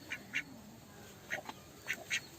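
Ducks in a village farm field quacking in several short bursts, two calls, then two more, then a final pair, moderately close over a low background hiss with no talk.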